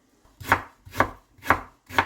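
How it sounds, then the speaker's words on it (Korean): A knife chopping food on a cutting board, four crisp even thuds about half a second apart, close and clear with nothing else heard. "이렇게 썰면서 손이 조금씩 뒤로 가면서"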